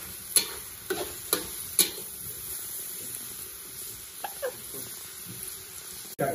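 Ingredients tossed in a wok of hot oil in a home kitchen, a soft sizzle broken by several sharp metallic scrapes and clanks of the spatula, fairly close.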